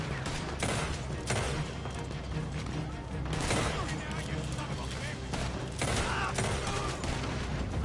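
Gunfire crackles through a Red Dead Redemption 2 shootout, dense overlapping shots and bursts filling the whole stretch at steady, loud level, with voices mixed in over the continuous firing.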